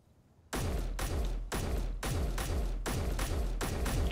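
Rifle in the Space Engineers video game emptying a full magazine, about seven loud, evenly spaced shots roughly half a second apart, each booming and fading, with no talking.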